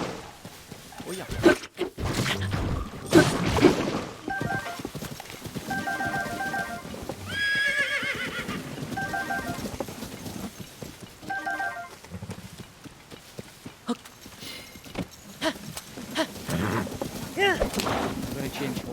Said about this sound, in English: I'm going to change horse because this horse is a new horse and she's a wee bit unruly.